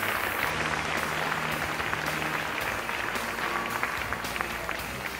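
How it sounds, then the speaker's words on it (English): Loud, sustained audience applause at a state pageant, a dense continuous roar of clapping from a large crowd with a low hum underneath. "Let's go ahead and give them another round of applause."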